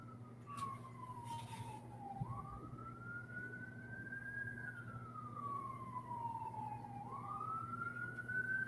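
A distant siren wails slowly up and down over a low steady hum, faint and drawn out.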